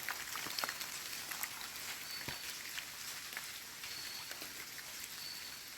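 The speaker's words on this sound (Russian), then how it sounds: "Дождь все идет." Rain falls steadily in a jungle of moss-covered trees, a soft continuous patter with scattered sharper drops landing close by.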